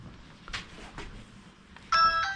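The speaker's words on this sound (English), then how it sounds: "Let me go up and ring the bell again." A house doorbell rings with a clear electronic chime near the end, preceded by a few soft knocks and rustles, close and alone without talk.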